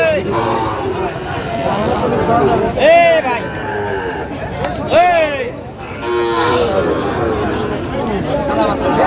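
Sahiwal cattle moo repeatedly at a busy cattle market, with several loud, drawn-out calls rising over constant crowd chatter and nearby people talking.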